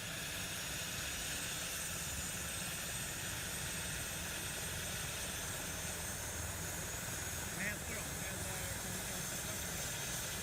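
Boeing 737-800 jet engines in the X-Plane 11 flight simulator, a loud steady broadband roar that holds evenly without letup from start to finish.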